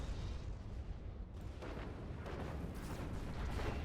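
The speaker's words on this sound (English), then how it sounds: "I think he just blew himself up." A commander self-destructs in the Planetary Annihilation video game, letting off rumbling, artillery-like explosive booms that roll through a few bursts at a fairly low level.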